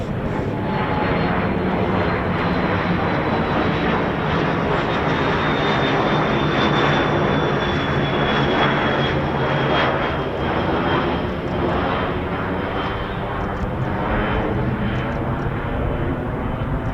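An RAF Phenom T1 jet passes overhead, a loud, sustained roar of engine noise with a slowly falling whine, close and constant throughout.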